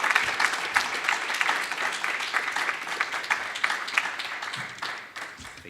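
Sustained applause from a seated audience at a university public health division launch, welcoming a keynote speaker; dense, steady clapping that fills the room and tapers off near the end.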